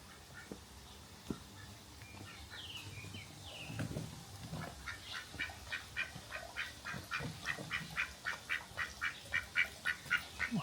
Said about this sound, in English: The duck was already awake and working.